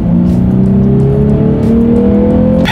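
2018 Lexus RC 300 F Sport accelerating in sport mode, loud steady engine drone rising in pitch through a gear, heard from inside the cabin with a brief shift near the end.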